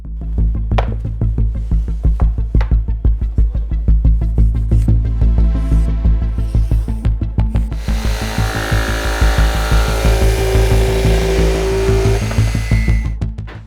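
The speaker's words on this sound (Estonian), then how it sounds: "Nüüd saan vormi oma plaadile üle kanda ja selle jämedalt tiksaega välja saagida." A jigsaw roughly cuts a traced shape out of an MDF board, a loud, continuous rasping buzz with fast stroke pulses, the pitch and tone shifting partway through as the blade works the cut.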